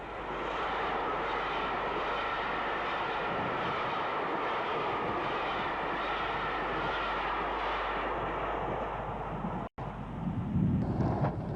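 A loud, continuous rumbling roar of a steam locomotive hauling an up Motorail train, sustained throughout with no talking, briefly cutting out near the end.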